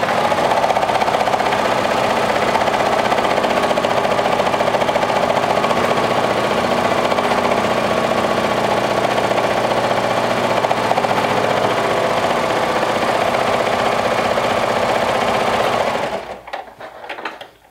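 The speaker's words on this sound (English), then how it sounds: "we're going to run a serger stitch from top to bottom on both sides and stitch all layers together" A serger sewing machine runs steadily for about sixteen seconds, stitching a 1/4 inch seam through all the fabric layers of a Sinclair Lotte garment, a loud, continuous close-up whirr that stops abruptly near the end.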